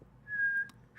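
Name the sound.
person whistling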